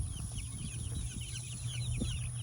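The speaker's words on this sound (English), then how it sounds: "You can see we've got our birds in here, and these are Americanas." Ameraucana chickens in a coop giving soft, scattered clucks and chirps over a constant background hum, moderately faint and close, with no talking.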